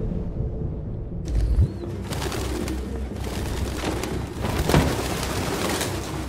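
Pigeons cooing in the video game Detroit: Become Human, soft low coos over a steady ambient bed with a couple of sharp bursts partway through.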